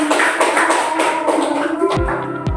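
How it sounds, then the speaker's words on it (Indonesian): A classroom group claps together in a short burst of applause that thins out toward the end. "Silakan duduk, dikasih tepuk tangan."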